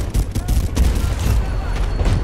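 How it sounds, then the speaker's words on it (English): Rocket strike explosions and gunfire in the Medal of Honor video game, with dense overlapping booms and a rattling barrage, loud and close, with a voice in the mix. "Yeah, rocket strike."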